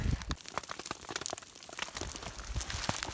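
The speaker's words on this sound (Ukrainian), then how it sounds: "Ось град іде." Hail falling on a summer mountain hike in the Syniohora area, a dense patter of sharp scattered ticks and clicks striking nearby surfaces, fairly steady throughout with no voices.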